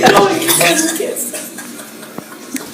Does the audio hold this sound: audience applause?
no